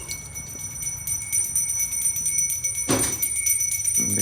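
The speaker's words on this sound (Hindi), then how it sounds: "घंटी की आवाज़ आ रही है" A puja prayer bell rings steadily in a home during morning worship, a bright, sustained metallic tone that carries throughout, with a louder strike near the end.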